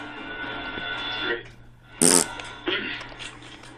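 A voice imitates a fart with the mouth, a short buzzing raspberry burst standing out against steady game sound and talk, close and fairly loud.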